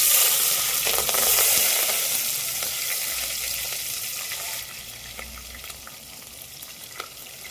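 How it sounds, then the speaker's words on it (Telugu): Chopped onions fry in hot oil in a pan with dried red chilli, cinnamon, cardamom and cloves for khichdi, giving a steady, close sizzle that starts loud and eases slightly, with faint stirring crackles and no talking. "ఈ ఉల్లిగడ్డ కొద్దిగా దోరగా వేయించుకున్నామండి."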